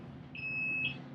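A kitchen oven timer sounds a single sustained high electronic beep of about half a second, clear against a low background hum.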